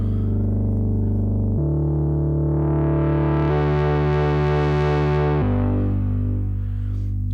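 Moog Subsequent 37 playing a repeating melodic house/techno bass-synth pattern through a 24 dB low-pass filter with sharp attack, the cutoff being lowered so the tone darkens; loud, sustained stepping notes with no voice.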